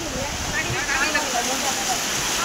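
Waterfall at Harishchandragad fort in monsoon, a steady broadband rush of falling water that fills the scene continuously, with faint voices mixed in.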